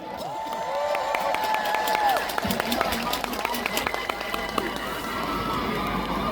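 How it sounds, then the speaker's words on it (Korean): A crowd at an outdoor Labor Day concert in Yi Sun-sin Stadium claps and cheers steadily, with a voice speaking over it and some tonal sounds early on. "박수와 함성요"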